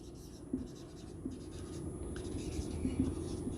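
Chalk or marker scratching across a board while an equation on generalized velocity and acceleration is written, a faint, steady scrawl with small taps, heard over a quiet room hum.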